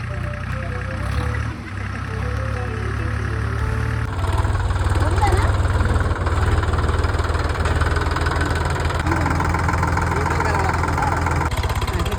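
A heavy tractor engine on a farm runs steadily at a low, rumbling idle with a constant mechanical drone throughout.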